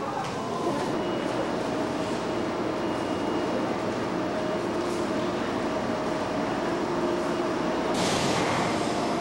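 A bullet train at a station in Yokohama, Japan, rushes past as a steady, loud broadband roar of wheels and wind, sustained throughout with a brighter surge of rushing air near the end.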